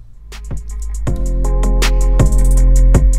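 Sharp metallic clicks and small clinks from a nut being tightened on an MZS shorty lever on a Yamaha R3 motorcycle, several separate taps over a low steady hum, close up with no talking.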